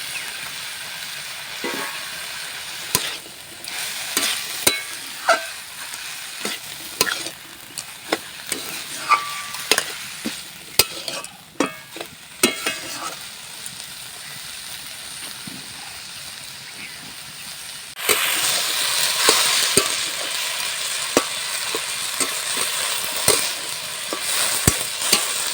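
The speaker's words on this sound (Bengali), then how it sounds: "এবারে এটাকে আমি একটু নেড়ে নিয়েছি।" Potato, eggplant and banana stem frying in a pan, stirred with repeated clanks and scrapes over a steady sizzle that grows louder near the end.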